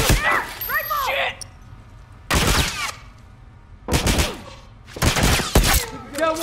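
Hunting rifle and military sniper fire in The Last of Us Remastered: three or four loud, heavy gunshot bursts with ringing tails, separated by quieter stretches where voices talk.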